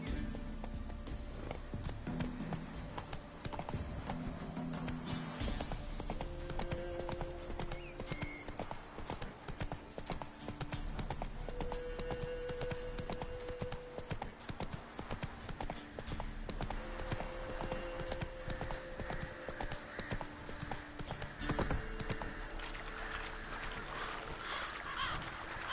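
Horse hooves clip-clopping in a steady trotting rhythm while riding a horse in The Witcher 3: Wild Hunt, with game ambience and faint voices now and then.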